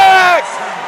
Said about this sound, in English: The crowd goes nuts.